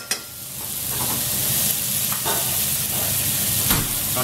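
Meat searing in a hot pan, a loud, continuous close sizzle that swells after a brief clink, with a few faint scrapes and knocks, no talking.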